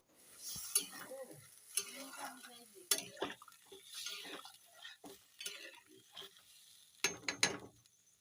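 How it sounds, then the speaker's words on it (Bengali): A spoon works through a cauliflower and egg curry in a pan just after water has been poured in, giving intermittent scraping strokes and clinks at an uneven pace, fairly close and moderately quiet. "আমি জল দিয়ে দিলাম পরিমাণ মতো জল দিয়ে নাড়িয়ে নেবো"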